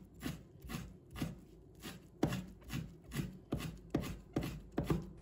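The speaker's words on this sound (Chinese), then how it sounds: "再准备适量的酸菜，把它切成丝" A kitchen knife chops pickled mustard greens into thin shreds on a cutting board, roughly a dozen crisp, evenly paced strokes close up with a faint woody knock under each cut.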